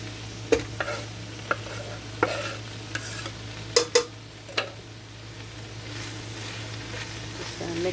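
Greens cooking down in a pan are stirred with a gentle sizzle underneath, while sharp clacks of the utensil against the pan come at irregular intervals over a steady low hum, fairly quiet.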